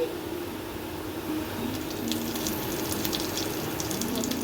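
Ghee going into a hot pan of motichur laddu mixture gives a soft, steady sizzle and crackle, faint and continuous throughout with small bright spits toward the end, no talking.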